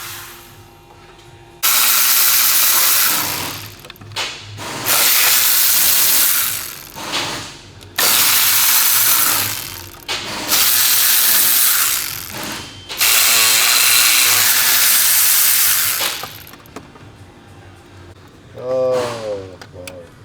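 A ratchet with a triple-square 10 bit works a bolt on the intake manifold support bracket of a 2010 VW Tiguan, giving several loud bursts of clicking separated by short pauses, with a voice speaking briefly near the end.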